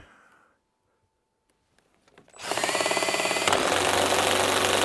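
A DeWalt cordless drill bogs down under heavy load: after a quiet start with faint clicks, the motor kicks in loud and close, grinding with a rough pulsing strain that continues steadily to the end.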